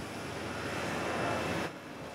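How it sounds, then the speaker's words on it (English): An airliner's engines hum steadily at an airport before departure, a faint, even drone that drops off sharply near the end. "the plane is set for departure and Mike is hopeful of making his Athens connection"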